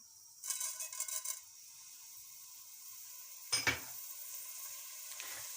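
Crushed red chili frying in a spoonful of oil for chana chaat, a faint soft sizzle with a short burst of frying near the start and a sharp clink of a spoon on the pan midway.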